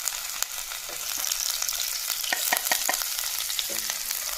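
Chopped ginger and garlic fry in hot masala for a soybean curry, making a dense, continuous sizzle with scattered clicks and scrapes from stirring.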